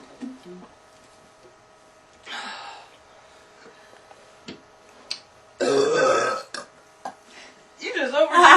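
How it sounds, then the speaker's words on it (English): Loud, drawn-out burps from young women, a couple of long croaking belches standing out after quieter breaths and small sounds, close up. "You burp so good."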